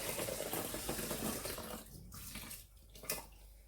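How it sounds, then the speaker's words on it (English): Boiled water is poured into a pot of rice, a gurgling, splashing stream close by that runs steadily, then breaks into a few short final splashes as the pour ends. "So now I'm going to put the boiled water inside now."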